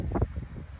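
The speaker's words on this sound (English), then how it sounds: "It's kind of windy and it sucks outside" Outdoor wind buffets the microphone in a brief low rumbling gust, loud and close, with no other sound.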